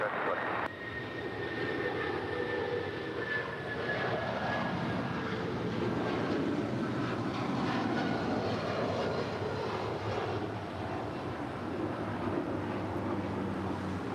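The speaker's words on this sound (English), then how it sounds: "This is United Airlines 1772 departing to Denver. It's 757-300." A United Airlines Boeing 757-300 takes off from runway 25 right at LAX. Its engines make a sustained, broad roar with a slowly falling whine, steady and loud throughout.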